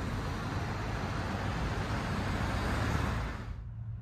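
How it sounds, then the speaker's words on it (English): Road traffic rumbles below a hotel room behind a noise barrier, a steady broadband hiss of passing vehicles that stays moderately loud and then drops away abruptly near the end. "Got traffic down there, but the noise barrier is pretty good."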